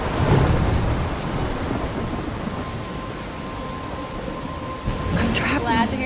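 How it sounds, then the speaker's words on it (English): Steady rain and thunder rumble from a storm in the video game Life Is Strange, a continuous loud wash with heavier swells at the start and end. "I'm trapped in a storm."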